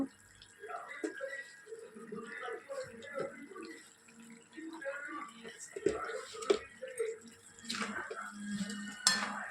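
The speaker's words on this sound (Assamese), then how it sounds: "তাৰপিছত এনেকৈ লৰাই দিব অলপ।" Pickle with salt and turmeric being stirred in a pan: intermittent soft scraping and clinking of utensil against metal, faint and irregular, mostly under a person talking.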